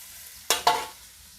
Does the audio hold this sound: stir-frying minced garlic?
yes